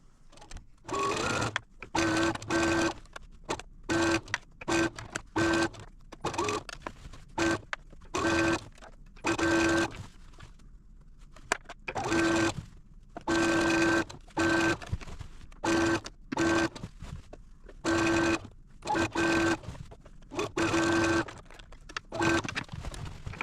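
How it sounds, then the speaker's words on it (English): A sewing machine sewing a quilt border runs in repeated bursts of rapid mechanical stitching, stopping and starting with short pauses between runs. "Now I'm going to take this over to the sewing machine and sew it."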